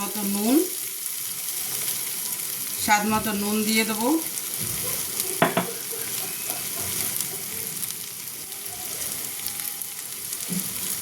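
Fried spice masala for chana masala sizzles steadily in a pan, close and continuous, with occasional stirring scrapes as a voice speaks briefly over it.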